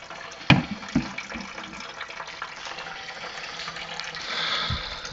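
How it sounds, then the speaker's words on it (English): Wort runs from a mash tun during a home beer brewing session, a steady close trickle of liquid with a couple of knocks near the start and a rising splashy stream toward the end. "It's still draining, not super fast"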